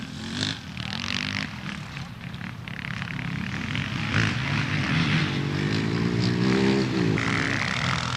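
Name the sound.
Husky 610 enduro motorcycle racing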